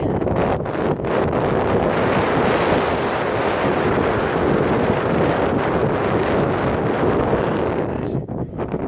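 Strong, steady wind gusting across an open hiking trail on the Appalachian Trail, a loud, continuous roar buffeting the microphone for the whole stretch, easing slightly near the end.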